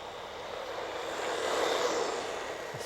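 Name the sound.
WLtoys RC car motor at full throttle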